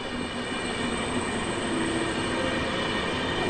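Snow-covered train at Warszawa Zachodnia station rolls past with a steady, moderately quiet rumble of wheels and carriages, a faint high tone running over it, no talking.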